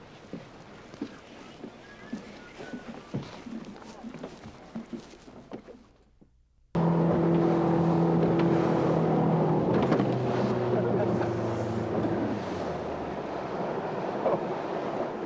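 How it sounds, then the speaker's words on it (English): After quiet wind and water noise on saltwater, a motorboat engine suddenly starts and runs loud and steady, its hum droning under splashing waves. "The boat's ready. Let's go."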